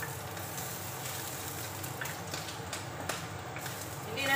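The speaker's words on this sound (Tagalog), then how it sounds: "Fry natin ang luya." Ginger frying with browned ham in a pan, a steady soft sizzle running throughout with faint stirring, fairly close and even in level, rising slightly at the very end.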